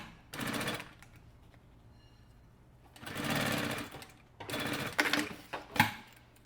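Sewing machine stitching the side seams of a leather work-wallet closed, in three loud running bursts separated by quiet pauses, the last ending in short choppy stitches.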